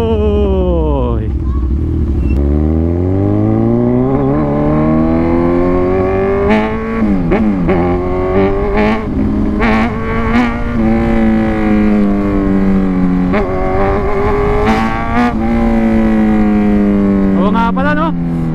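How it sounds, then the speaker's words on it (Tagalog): A wet Kawasaki Z1000 motorcycle engine roars loudly and steadily up close, its pitch rising and falling as the bike accelerates and revs, with some rough rattling in the tone. "nabasa nga pala tong motor, kaya pala nag-iba na naman yung tunog, lalong umiingay"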